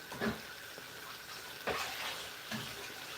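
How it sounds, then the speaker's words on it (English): Hot water poured into a cooking pot of black-eyed beans in palm oil, giving a soft sizzling hiss broken by three short splashing bursts, close and moderately quiet, with no talking. "I'm going to use another half a cup of water, hot water"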